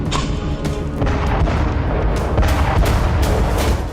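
Battlefield artillery fire and explosions in a war zone during a counteroffensive, a dense barrage of heavy booms and blasts overlapping continuously, loud and rumbling throughout.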